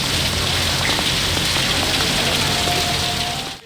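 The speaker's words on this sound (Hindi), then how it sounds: "मूसलाधार बारिश ने जलथल एक कर दिया।" Heavy monsoon rain pours steadily in Karachi, a dense, loud, unbroken roar of drops hitting surfaces with no voices.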